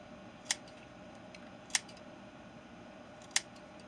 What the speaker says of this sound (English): I'm just going to snip right to the thread.